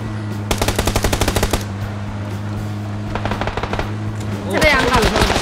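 Automatic gunfire in a video game, loud and close: a long rapid burst, a pause, a second burst, then a final fast rattle, with voices mixed in.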